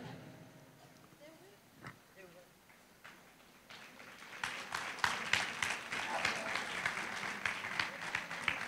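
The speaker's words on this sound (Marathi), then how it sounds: "टाळ्या." Audience applause at a prize distribution event, rising from scattered claps to a sustained, fairly close burst of clapping over the last half, with a voice speaking early on.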